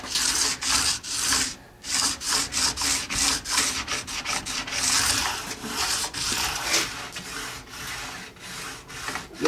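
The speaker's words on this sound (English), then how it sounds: "You can also hear it and feel it while you're sliding the file" A metal file is drawn along the steel edge of a ski, making repeated rasping, scraping strokes in a steady back-and-forth rhythm, close and clear with no talking.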